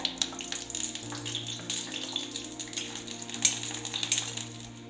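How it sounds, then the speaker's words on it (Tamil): Seven or eight dried red chillies fry in oil in a kadai, with a steady close sizzle broken by small crackling pops and spits throughout. "மிளகாய் இந்த அளவுக்கு நல்லா ஃப்ரை ஆகணும்."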